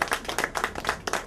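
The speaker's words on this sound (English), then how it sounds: "Can we give Jamila a round of applause once again?" Brief audience applause for a workshop guest, a short burst of scattered claps at moderate distance.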